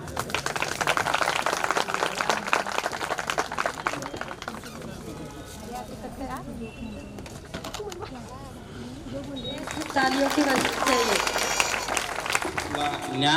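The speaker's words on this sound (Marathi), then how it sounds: "टाळ्या होऊन जाऊ दे एकदा" Applause rises at a school reunion felicitation, loud clapping at the start, fading under a speaker's voice in the middle and swelling again toward the end.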